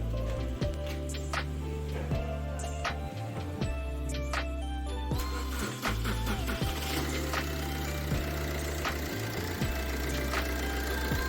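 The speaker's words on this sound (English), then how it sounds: "now we'll start the engine and check whether the heater glow plug is working good or not." Maruti Suzuki Swift engine starting and settling into a steady idle after a heater glow plug replacement, a close, even mechanical hum with small knocks and clicks, no talking.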